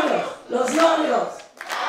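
Wedding guests at a home celebration cheer and shout for the newlyweds, a short burst of crowd voices rising and falling with a second surge near the end.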